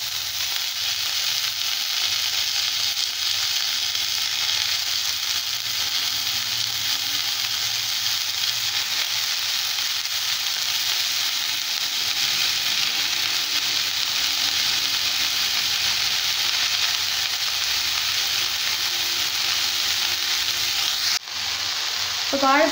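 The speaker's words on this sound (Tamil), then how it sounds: "இப்போ கடைசியாக வந்து இந்த வாழைப்பூவையும் போட்டு லைட்டாக வதக்கிக்கலாம்" Banana flower sautéing in a pan with softened aromatics for vazhaipoo vadai, a steady loud sizzle and frying hiss running continuously, with a brief clatter near the end.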